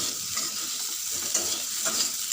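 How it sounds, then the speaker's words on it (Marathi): Coriander fritters (kothimbir vadi) frying in oil in a pan, with a steady close sizzle and light stirring scrapes and no talk. "या अशा फ्राय केल्या की यांना खूप छानच टेस्ट येते."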